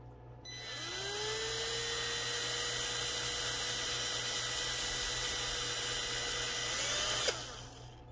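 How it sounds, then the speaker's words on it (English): A small Harbor Freight drill bit spins up and bores through a piece of a laser-cut dollhouse kit, a steady high motor whine with a rising pitch at the start, holding for several seconds before stopping abruptly. "I've got a little drill bit that I got from Harbor Freight."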